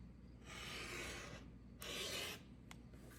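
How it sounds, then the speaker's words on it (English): Stacked quilting fabric blocks sliced corner to corner with a rotary cutter, giving two close, raspy cutting strokes, each about a second long, plus a short scrape, with no talking. "And then I will cut them diagonally,"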